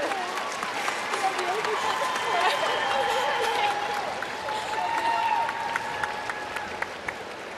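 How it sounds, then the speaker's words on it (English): Arena crowd cheering and clapping inside a dome at the 2021 U.S. women's gymnastics team trials before the vault rotation, a continuous roar with whistles, while a commentator talks over it. "Got the crowd going before those vaults."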